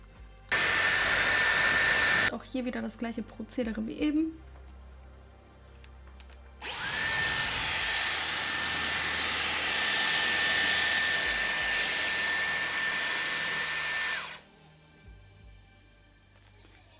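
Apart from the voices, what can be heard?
Dyson Airwrap hair dryer attachment blowing hair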